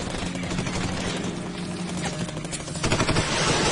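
Rapid bursts of automatic gunfire and dense fusillades fill a war movie battle scene, loud and continuous, with a helicopter-like rumble beneath and a sharp surge of firing near the end.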